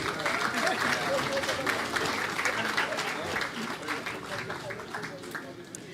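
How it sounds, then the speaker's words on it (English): Applause from an audience at the official opening of a national underwater park exhibition, a dense, steady clatter of many hands clapping that runs the whole time and eases off slightly toward the end, with some crowd voices mixed in. "Once again, a round of applause for Dame Paulette."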